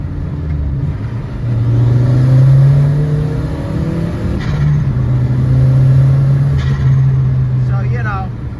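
A 1.8T engine in a MK1 Rabbit pickup fitted with a Techtonics Tuning exhaust idles with a deep burble, then is revved twice, each blip rising to a loud droning growl before settling back.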